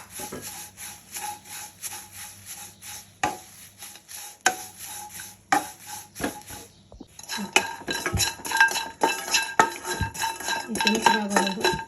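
Dried drumstick leaves are stirred in a pan as they roast, with frequent close scraping and clinking of a utensil against metal, which grows busier and more rattly toward the end.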